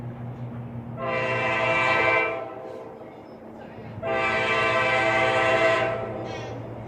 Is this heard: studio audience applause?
no